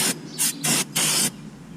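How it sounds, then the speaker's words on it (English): Aerosol brake cleaner sprayed onto a front brake rotor of a Chevy Impala in four short hissing bursts of varying length, loud and close, the last one longest. "Giving that one more spray because I handled that."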